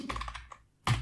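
Computer keyboard typing in a quiet room, a quick run of close key taps followed by a brief pause and another firm burst of keystrokes.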